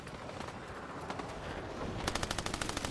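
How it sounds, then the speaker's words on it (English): Rapid automatic gunfire in the video game Fortnite, a dense burst over steady background game noise, building into a loud evenly spaced string of shots near the end. "I'm getting shot from behind."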